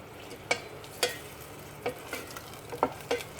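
Okra sothi cooks in a pot with a low, continuous simmering hiss, punctuated by several light, evenly spaced clicks and taps, close and faint, no talking.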